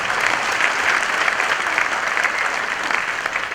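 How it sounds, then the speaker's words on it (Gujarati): Dense, steady clapping from a seated audience at a Gujarati comedy show welcomes the event director, continuous and fairly close with slight swells in intensity. "એકવાર જોરદાર તાળીઓથી વધાવી લો"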